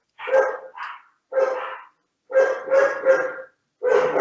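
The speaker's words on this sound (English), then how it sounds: "You hear my dogs?" A dog barks in clear, separate bursts, a few quick barks in groups with short pauses between, fairly close and otherwise quiet.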